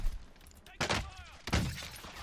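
Two loud bursts of video game gunfire crack out close together, each a sharp impact with a brief ringing tail over a low background rumble.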